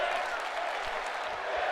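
A wrestling crowd cheers and claps steadily inside a coliseum, a dense, loud roar without breaks.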